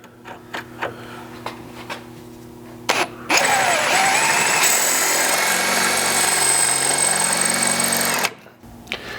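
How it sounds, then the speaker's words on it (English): A power drill whines loudly and steadily for several seconds after a few light taps and clicks, then cuts off abruptly, enlarging a pilot hole with a 1/4 inch bit. "With a pilot hole drilled, we'll step up to our larger 1/4 inch drill bit."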